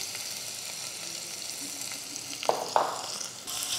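Finely chopped onion with caraway and bay leaf frying in a little oil, a soft steady sizzle with a couple of brief stirring clatters near the end.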